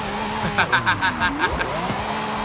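A Lamborghini converted into a police car drifts in Forza Horizon 5, its engine droning and tires squealing in a sustained slide, with excited commentary talking over it throughout.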